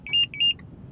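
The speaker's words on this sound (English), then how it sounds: "when it beeps, it's telling you, it's coming back to you saying, hey, okay, now your car is locked." A Compustar 2W 705 car remote system gives two short, loud electronic beeps in quick succession, followed by a faint trailing chirp, over a quiet background.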